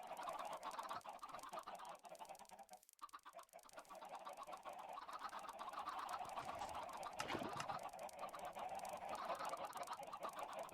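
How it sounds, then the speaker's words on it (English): A dense flock of chickens at a chicken farm clucks and squawks continuously, a steady overlapping chorus with occasional louder calls rising out of the crowd, no voices. "Here is the chicken farm."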